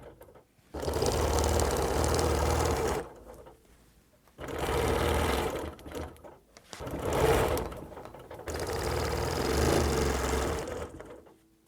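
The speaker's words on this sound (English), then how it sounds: "just stitch until you hit that next line" A sewing machine stitches straight quilting lines in four steady bursts of whirring, separated by brief pauses, fairly close and on its own.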